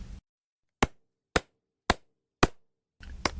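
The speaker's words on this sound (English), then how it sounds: "what's that noise I hear? It sounds like hammering or something." Four sharp hammer strikes land alone at an even pace in near silence, each a crisp knock with a short decay, set between two brief bursts of muffled noise.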